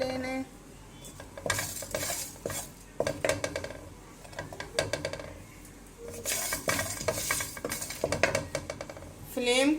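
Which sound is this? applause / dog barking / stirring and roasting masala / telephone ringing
stirring and roasting masala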